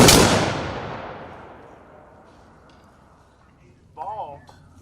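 A single sharp rifle volley cracks out on command at an outdoor ceremony, its loud report decaying over a couple of seconds into quiet, followed by a brief voice.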